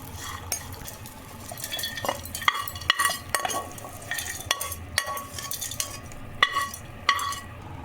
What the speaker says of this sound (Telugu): పచ్చిమిర్చి, శనగిత్తనాలు అన్నీ బాగా వేగితేనే మనకు చట్నీ టేస్ట్ వస్తుంది.